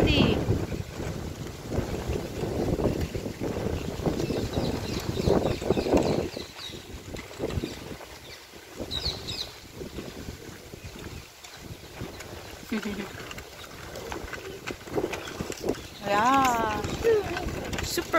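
Strong wind in a park roaring steadily against the microphone in a continuous rumbling buffet throughout, with people talking over it.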